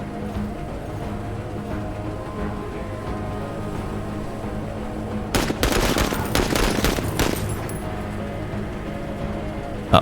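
Gunfire in the video game Menace breaks out as a rapid burst of several loud shots over a low, humming game soundscape, then the ambience resumes.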